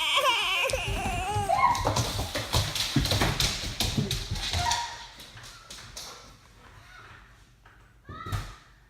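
Charlie the dog plays boisterously indoors, with loud close barks, thumps and scrabbling in a dense burst that fades to quieter rustles, then one final sharp bark.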